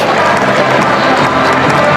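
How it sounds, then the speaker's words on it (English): Scottish crowd at a T20 cricket match against Australia roaring and cheering a wicket, a loud, continuous wash of massed voices throughout. "He leaps with delight and he brings the Scottish crowd to life"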